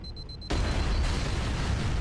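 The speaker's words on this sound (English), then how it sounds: "Oh, so many explosions." Explosion in the video game Halo: a sudden loud, broadband blast that bursts in after a quiet moment and rumbles on heavily to the end.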